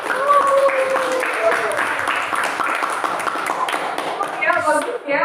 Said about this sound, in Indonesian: semua boleh kasih aplaus untuk Aziz